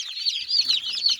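Newly hatched ducklings peep close by in an incubator, a busy overlapping chorus of high, thin chirps with no pauses.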